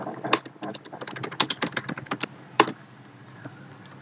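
Rapid typing on a computer keyboard while filling in a data entry form in an Excel cashier app, a quick irregular run of crisp key clicks with one sharper stroke near the end, then a quiet pause.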